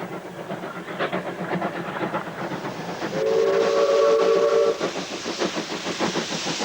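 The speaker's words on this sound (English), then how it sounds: "Some of them engine whistles used to have a very low tone" Steam locomotive whistle sounds a single steady sustained blast of about two seconds over rhythmic chuffing and hiss from the engine.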